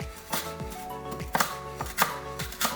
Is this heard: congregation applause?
no